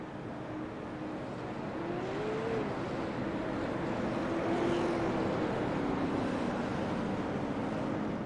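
Race cars circling the Myrtle Beach short track in the iRacing Limited Outlaw Super Series sim race, their engines forming a steady, continuous droning roar with a slight rise and fall in pitch and no talk.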